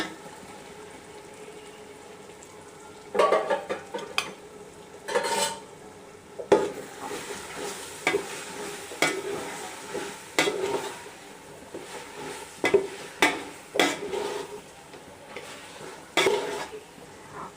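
Mutton pieces with tomatoes are stirred and fried in a pot for biryani: a quiet start, then rhythmic scraping and clanking stirs over a soft sizzle, close up and without speech.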